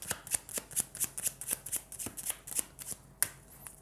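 A deck of playing cards is shuffled up close during a card trick, with a quick run of crisp riffling snaps and one sharper final slap, all without talk.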